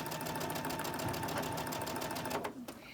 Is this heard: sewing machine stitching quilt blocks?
yes